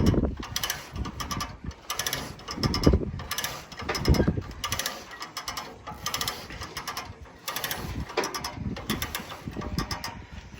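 A come-along winch ratchets in repeated bursts of metallic clicking to drag a Willys military Jeep onto a trailer in the desert, the clatter close and steady with brief pauses between pulls.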